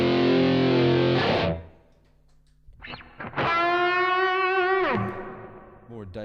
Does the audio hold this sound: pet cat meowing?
no